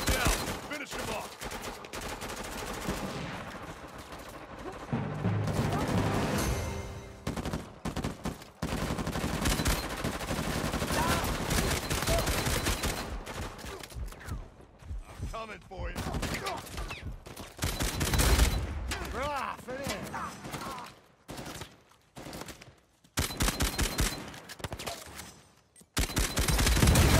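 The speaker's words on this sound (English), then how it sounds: "Laying down suppressive fire!" Suppressive gunfire in a video game: sustained bursts of automatic fire and rapid shots pile up over nearly half a minute, loud and close, with short gaps and shifting intensity, mixed with game sounds and occasional voices.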